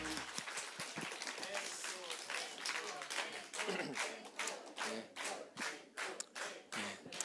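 A church congregation claps at a Korean worship and testimony service, dense rhythmic clapping that runs throughout, with voices mixed in over the applause.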